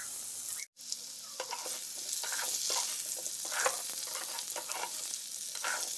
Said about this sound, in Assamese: ইফালে মই আলুখিনি কাটি পৰিষ্কাৰ কৰি ধুই এতিয়া তেলত ভাজি আছো